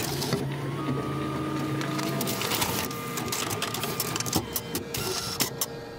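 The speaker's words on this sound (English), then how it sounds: "Copier copying" An office copier runs steadily through a copy cycle, a continuous mechanical whir with a sustained tone and a few rattling clicks and thumps near the end, heard alone without talk.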